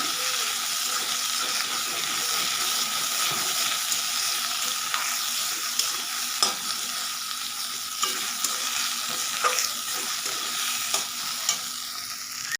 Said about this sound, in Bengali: মিডিয়াম আঁচে এটাকে খুব ভালোভাবে ভেজে নিতে হবে 2 মিনিটের জন্য